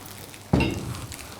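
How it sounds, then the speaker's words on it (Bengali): Duck egg hitting hot oil in a frying pan, a sudden loud sizzle that bursts in and then settles into a steady crackling fry, close and alone. "নাড়তে নাড়তেই আপনার এই হাঁসের ডিমটা স্ক্র্যাম্বল হয়ে যাবে।"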